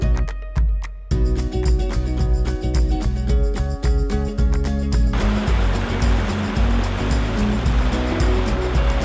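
Loud, steady rushing of water from a narrow trout river, broadband wash with clinking, rhythmic knocks early on, continuous and close throughout.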